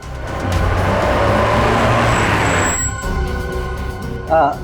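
A car rolls in and arrives, its engine and tire noise swelling loud and close for a few seconds before cutting off, followed by a brief clunk.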